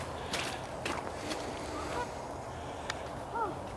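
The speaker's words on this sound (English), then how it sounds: "Oh my goodness, the geese are back already and there's still ice out there." Wild geese honk at a distance in early spring over a partly frozen lake, with several separate calls spread across a breezy outdoor background and no talking.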